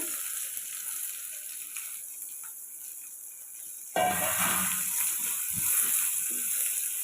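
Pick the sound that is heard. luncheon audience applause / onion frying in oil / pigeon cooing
onion frying in oil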